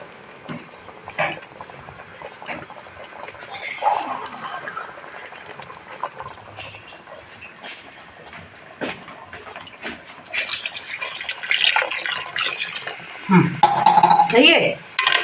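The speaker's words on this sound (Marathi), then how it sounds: "याला थोडासा पाणी टाकून त्याला पातळ करताय" Water poured into a Konkani-style dried fish curry in a pot to thin it, with splashing and clinking of utensils against the pan, close and moderately loud. People talk at times.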